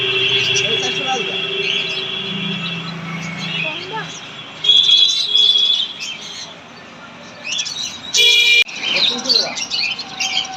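Caged birds at a bird shop chirp and tweet in bright bursts and thin whistles, close and steady, while people talk nearby and a brief horn-like toot cuts in.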